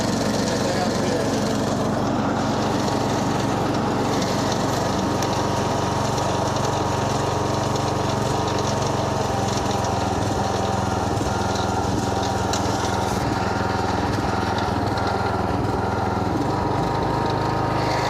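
Bad Boy riding lawn mower engine running steadily with the deck blade engaged, a continuous close, loud drone with no knocking, carrying on unbroken throughout.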